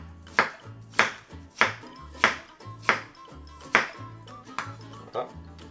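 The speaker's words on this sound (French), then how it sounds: "Je vais couper mes poires en petits dés." A knife dicing pears on a cutting board, crisp chops landing in a steady, even rhythm close by, with a low hum underneath.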